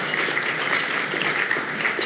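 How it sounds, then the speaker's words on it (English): Audience applause greets the inductees at a Technology Hall of Fame introduction ceremony, a steady dense wash of many hands clapping at moderate volume throughout, with no talk over it. "Let's give them a round of applause."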